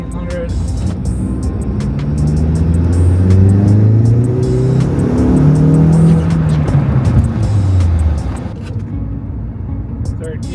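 A first-generation Audi TT 225 accelerates hard in third gear from 1500 rpm, the engine note climbing steadily and loudly from inside the car, then easing off near the end, with a voice talking over it.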